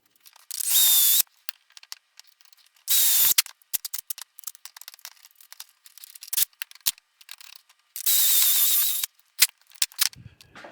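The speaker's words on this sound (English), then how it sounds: "let's drill some holes" Power drill boring holes in wood for a cherry tape loom, three loud whirring bursts of about a second each, separated by clicks and handling noises of the clamped workpiece.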